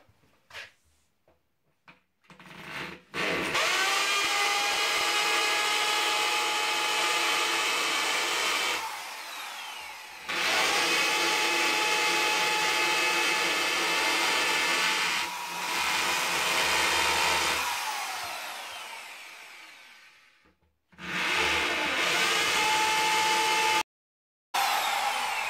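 A power drill whirs in several long bursts, separated by short pauses, loud and close with high whining tones, in a workshop making a PVC pipe storage rack.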